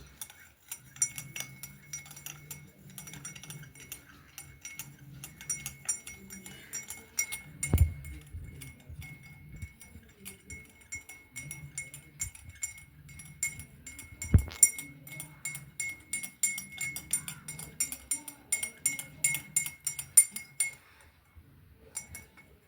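Spoon clinking against a glass while sugar is stirred into butterfly pea juice, a steady run of light metallic taps and rattles with a couple of louder knocks, close by and with no talking.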